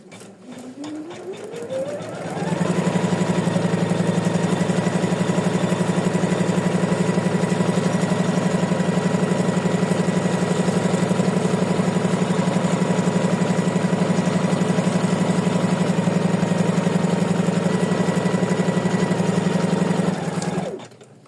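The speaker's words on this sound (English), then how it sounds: "So let's stitch the placement line." An embroidery machine stitching a placement line on an in-the-hoop butterfly tag spins up and then runs with a loud, steady, rapid mechanical whir for about eighteen seconds before stopping, no one talking.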